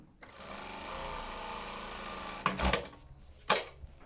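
Sewing machine stitching along an overlocked fabric edge while sewing in a zipper, a quiet rapid whirring run of about two seconds followed by a couple of short clunks and bursts.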